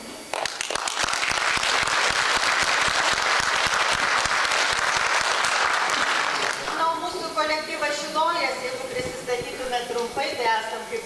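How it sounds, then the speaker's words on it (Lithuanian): A crowd at a Ukmergė folk dance festival in Lithuania gives dense, sustained applause for several seconds, which then fades as a voice takes over. "daug karštų plojimų"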